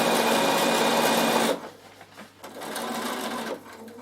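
A sewing machine stitches a Liberty fabric travel pouch, running loud and steady for about a second and a half, then dropping to softer, intermittent whirring with brief pauses before a second steady burst.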